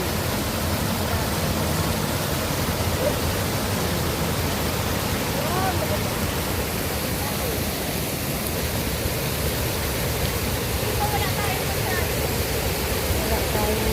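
Waterfall in Bicol with fairly low water flow, a steady broadband rushing roar that continues unbroken and evenly loud throughout, close by, with no other sounds standing out.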